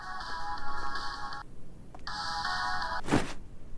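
A phone ringtone in the video game Closing Shift plays two bright, repeating electronic bursts, each about a second and a half long, with a short gap between them. A dull thunk lands near the end, and no one speaks.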